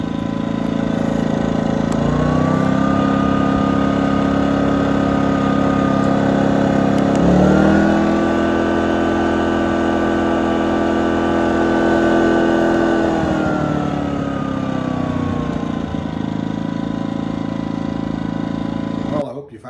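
A Powerhorse 2300i inverter generator hums loudly and steadily, its engine pitch rising as it steps up to the maximum setting, then holding and easing slightly lower toward the end.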